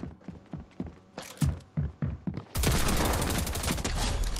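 Rapid gunfire from a shooter video game on a diving-board map, scattered single shots at first, then a loud sustained burst of continuous firing that fills the last two seconds, with no talking.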